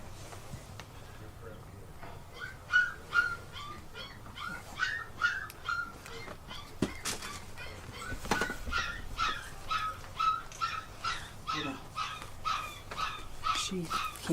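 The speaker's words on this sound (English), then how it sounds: "There's a whole bunch of puppies over there." A litter of puppies yipping, barking and whimpering in quick, repeated high bursts, close by and continuing steadily, with some thumps and faint background noise.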